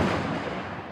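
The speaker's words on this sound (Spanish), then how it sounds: "lo que asusta es el sonido del rayo. El trueno es inseparable del rayo" Thunder from a lightning strike rolls as a dense, low, rumbling roar that stays steady and fairly loud for about a second, with no voices.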